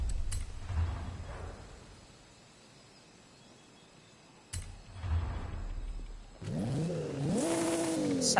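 A stock older car's engine in the Forza racing game revs up in two short bursts, then rises into a louder, sustained rising-and-falling whine near the end, with no talking.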